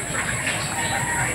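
A brooding hen kept on a small farm alongside goats clucks briefly amid steady outdoor background noise, fairly faint and short.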